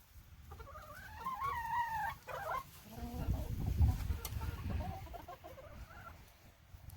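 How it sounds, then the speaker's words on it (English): A hen and her chicks cluck and chirp nearby, the hen's repeated calls mixed with higher peeping from the chicks, fairly close and lively. "So this is Mama and babies. Yellow's the mom. Petey's our rooster."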